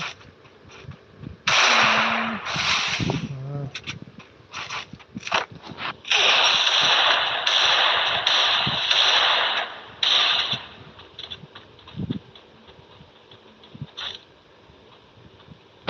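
Gunfire from a shooting video game, sharp close bursts and rapid shots in clusters, some rattling automatic volleys, separated by short gaps of quieter clicks and game noise.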